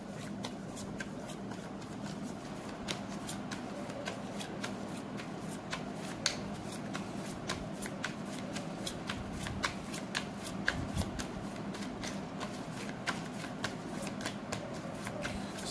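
Tarot cards being shuffled by hand in a steady, continuous riffling patter with frequent sharp snaps, close and even throughout, over a low background hum and with almost no talking.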